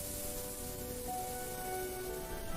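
Raindrops fall in a steady, even patter that fills the whole stretch, with faint sustained musical tones drifting underneath.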